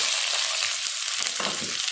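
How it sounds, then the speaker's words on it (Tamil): Dense, crackling sizzle of mustard and fenugreek seeds popping in hot oil, continuous and close, with a slightly busier burst of spluttering near the end. "கடுகு வெந்தயமும் நல்லா பொரிய ஆரம்பிச்சிருச்சு"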